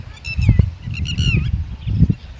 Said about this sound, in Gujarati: બધા પંખીનો ખિલખિલાટ અને પવનને ઝપાટા